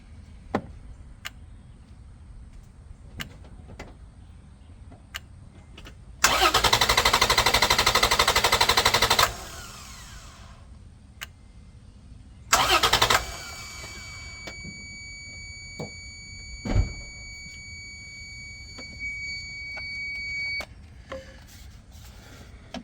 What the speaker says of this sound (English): we're going to go ahead and hook it back up, and we're going to see if it'll crank one more time